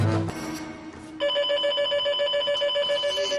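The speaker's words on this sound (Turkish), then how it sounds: "İkinci hat çalıyor." A telephone's second line rings in a taxi dispatch office, a steady electronic ringing tone that starts after a brief muffled shuffle and holds loud and continuous to the end, with no talk over it.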